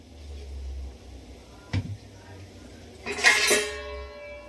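A metal lid is set onto a cooking pot of mutton curry, giving a sharp single clank followed a moment later by a brighter, ringing clatter against a quiet kitchen background.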